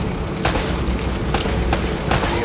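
Gunfire in the Uncharted video game, a few loud sharp shots spaced roughly a second apart over a dense, noisy background of battle sound.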